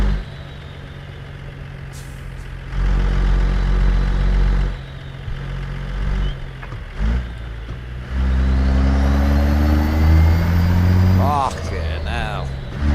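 Heavy Peterbilt 389 truck engine in a trucking video game, a deep low diesel drone that swells louder in long stretches as it pulls, with turbo whine rising near the end and a voice talking over it.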